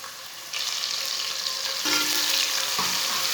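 Finely chopped onion hits hot oil with cumin and coriander in a pan, bursting into a loud, steady sizzle that swells again midway as it is stirred, with no talking.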